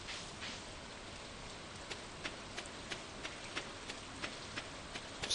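Soft, steady rain patters down in the farming game Stardew Valley, a faint continuous hiss broken by small regular ticks and taps, with no voices.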